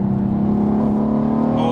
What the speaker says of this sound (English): it's a Renntech special exhaust on this one.